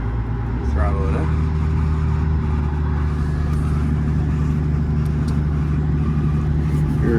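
John Deere Hitachi 200 excavator with a thumb attachment and low hours, its engine throttling up from idle into a steady loud diesel roar heard close from the cab, with a brief voice at the start.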